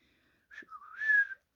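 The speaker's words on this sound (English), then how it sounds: "a probably upside-down hat stand whistled cheerily" A brief cheerful whistle sound effect in an audiobook, standing in for a whistling upside-down hat stand: one short chirp followed by a smooth, wavering tone that swells and stops, alone against silence.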